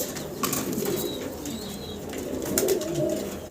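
Pigeons, including imported racing pigeons, coo in low, throaty murmurs close by at a pigeon farm, with a brief flutter of wings and a few faint chirps in between.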